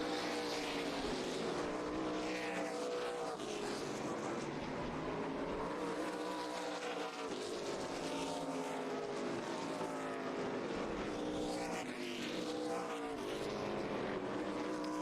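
ARCA stock cars roar around the Colorado National Speedway oval in a continuous, loud engine drone that rises and falls as the pack passes during a 150-lap race.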